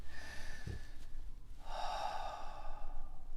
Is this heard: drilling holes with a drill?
no